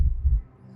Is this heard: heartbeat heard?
yes